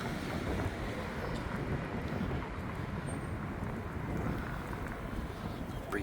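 Breeze buffets the microphone outdoors on a downtown Salt Lake City street, a steady low rushing roar that runs unbroken and fairly faint throughout.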